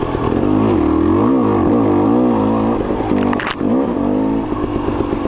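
KTM 300 XC-W two-stroke dirt bike engine revving close up, a loud buzzing that rises and falls in quick throttle blips with a brief scrape midway.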